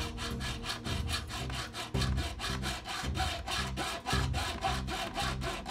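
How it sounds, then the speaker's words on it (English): A homemade PVC-framed hacksaw cuts through 4-inch ABS plastic pipe in steady, rhythmic back-and-forth strokes, each pass a close, raspy scrape repeating about twice a second with no talk. "So let's take a hack at cutting through 4-inch ABS pipe."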